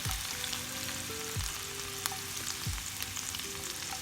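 Garlic and ginger frying in a spoonful of oil in a pan for chilli prawns, a steady close sizzle with faint stirring and a low hum, no talk.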